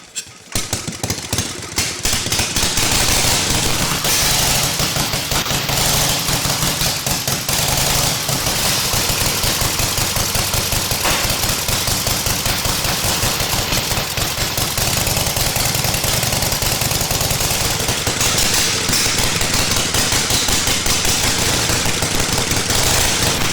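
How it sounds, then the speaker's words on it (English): Vintage board track racing motorcycle engine, decompressed and pedal-started, coughs into life after a couple of seconds and then runs loud and close, a rapid machine-gun-like staccato of firing pulses held steady for the rest of the clip. "I'm going to crank it up. Pretty simple process. Decompress the engine. Give it about 2 pedals. This thing ought to roar to life."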